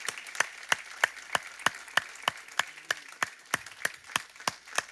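A church congregation at a Sunday worship service claps in a steady, even rhythm, about three claps per second, sounding fairly faint and distant with light room noise underneath.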